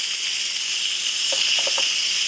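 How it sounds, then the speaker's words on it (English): An Instant Pot pressure cooker lets off its steam after cooking barbecue ribs, a loud, steady, continuous hiss that stays constant throughout, with a few faint taps beneath it. "It's going to take a couple minutes to release all that steam."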